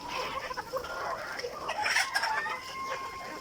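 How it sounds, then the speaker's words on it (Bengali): Egyptian Fayoumi chickens kept as parent stock on a poultry farm: soft, scattered clucks and brief calls, fairly faint and continuous, with no talking. "এই যে মুরগিগুলো দেখতেছেন অরিজিনাল মিশরীয় ফার্মি মুরগি"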